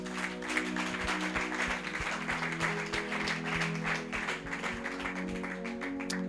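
A church congregation claps along in steady rhythmic applause during worship, loud and continuous, with sustained tones of music or singing underneath.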